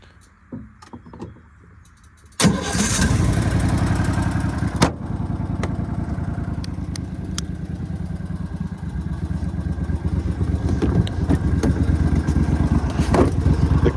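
An Argo amphibious vehicle's engine, running with a carburetor miss, starts up abruptly after a few quiet seconds of faint clatter and then runs steadily and loudly nearby with an uneven, stumbling rumble.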